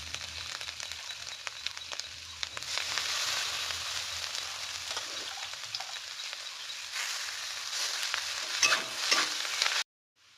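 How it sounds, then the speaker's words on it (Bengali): Chowmein noodles stir-fried in a pan, a soft continuous sizzle with scattered scraping and tossing sounds that swell toward the end before stopping abruptly. "এবার ভালো করে নাড়াচাড়া করে এবার দিয়ে দেবো চাউমিনটাকে"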